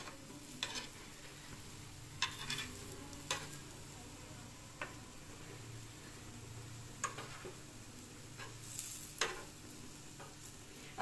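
Food sizzles softly in a pan while it fries toward golden brown in a home kitchen, with a steady low hiss broken by scattered sharp clicks and scrapes of stirring.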